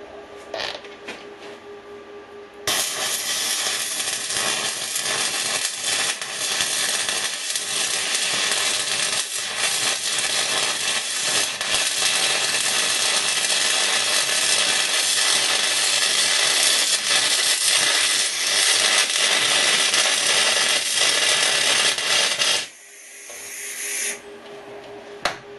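MIG welding on 10mm steel plate with an R-Tech Pro-MIG250-1 welder, a loud, continuous close crackling hiss of the arc that holds for about twenty seconds, then stops abruptly and trails into quieter noise.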